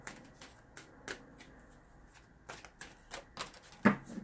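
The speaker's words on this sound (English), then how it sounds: "Let's just pick some cards here and see what comes up." Playing cards drawn from a tarot-style deck: a series of soft, brief card snaps and slides spaced irregularly, close and fairly quiet, with a sharper flick near the end and no talking.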